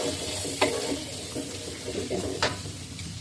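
Low, continuous sizzle of a spice paste cooking in a pan, with a couple of sharp scraping strokes as it is stirred.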